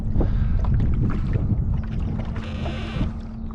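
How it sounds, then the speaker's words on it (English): Wind gusting over a boat out fishing on an island lake, a steady loud low rumble of buffeting against the microphone with a faint hum beneath and no voices. "Still blowing that wind, but it's not as strong as it was."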